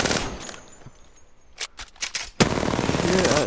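Apex Legends training-range gunfire: a sustained automatic burst, then several separate sharp shots, then another loud, continuous stream of rapid fire.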